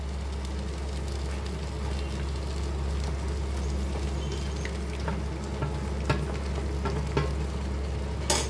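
Prawns frying in a pan for a gondhoraj lime and coconut-water prawn dish, a steady close sizzle with scattered pops and crackles running throughout, plus a low constant hum underneath.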